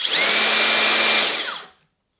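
A Makita 36V cordless earth auger with a 200mm bit runs on its low 350 RPM setting, a loud, steady motor whine for over a second before it spins down to silence.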